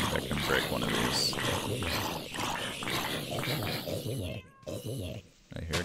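A cat in modded Minecraft (SevTech: Ages) meows repeatedly in a pulsing, rhythmic series of fairly loud calls, fading into brief quieter gaps near the end.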